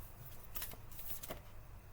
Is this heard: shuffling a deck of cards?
yes